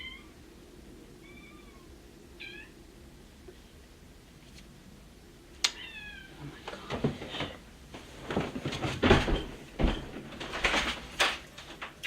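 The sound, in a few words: cats meowing outside the door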